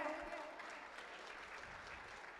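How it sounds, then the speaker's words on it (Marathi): An audience claps for traditional Maharashtrian folk performers after a lavani song, giving a soft, even wash of applause that sounds somewhat distant and continues steadily throughout. "या कलाकारांसाठी जोरदार नाही, ढोल ताशासारख्या टाळ्या तर होऊ द्या"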